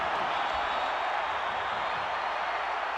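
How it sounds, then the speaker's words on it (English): A stadium crowd at the 1994 SEC Football Championship between Alabama and Florida, a steady, dense roar of cheering voices that holds at an even level throughout. "Everybody's cheering."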